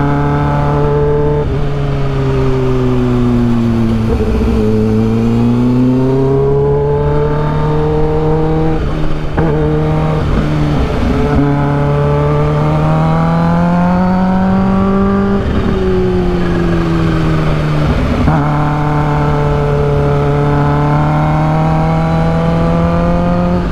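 A supercharged Kawasaki H2 motorcycle on a long ride, its engine droning loud and close throughout, the pitch repeatedly climbing and dipping as it accelerates and eases off, with no voices.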